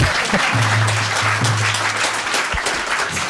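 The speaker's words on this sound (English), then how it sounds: "round of applause for our robot." A crowd claps steadily and loudly, a dense wash of applause lasting the whole stretch with a faint low hum underneath.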